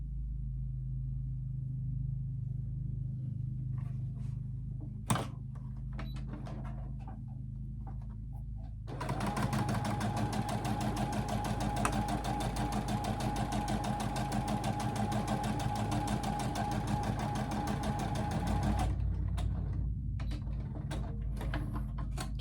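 A sewing machine runs a single continuous seam of about ten seconds, joining quilt pieces, with quieter handling noises before and after and no speech.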